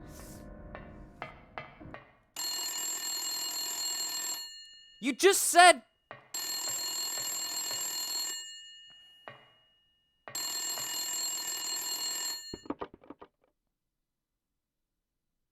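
Old-fashioned telephone bell ringing in the 1999 video game Silent Hill, three long bursts of loud ringing separated by pauses, with brief speech before and a short burst of music-like sound between rings.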